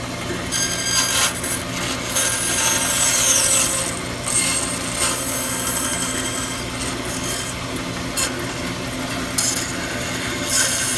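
A saw blade cuts through wood for a puzzle, a close, steady rasping stroke repeating with brief pauses and slight changes in pace, and nobody speaking.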